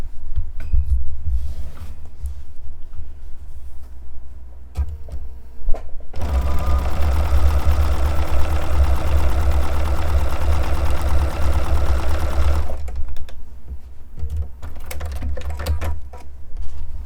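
Sewing machine running steadily for about six seconds as a t-shirt quilt block is stitched to a scrap fabric piece with a quarter-inch seam, loud and close, with brief quieter handling sounds before and after.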